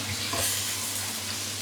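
Ginger garlic paste sautéing in a pan for a Thalassery-style fish biryani, giving a steady, soft sizzle that runs evenly throughout with no talk over it.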